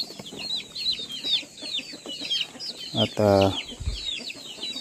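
Rhode Island Red chickens on a farm cluck in a busy, overlapping chorus with chirpy calls throughout, and a louder, closer bird call breaks in near the end over the steady flock.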